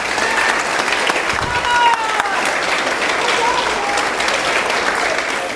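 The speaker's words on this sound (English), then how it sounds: "Please give them a round of applause." An audience applauding teachers at a political event in Florida, loud sustained clapping from a large crowd, with a voice speaking over it.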